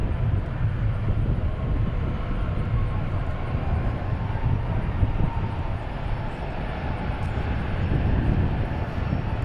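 A jet airliner arriving at Dallas/Fort Worth from Punta Cana gives a steady, broad engine roar that holds evenly throughout, with a voice talking over it at times.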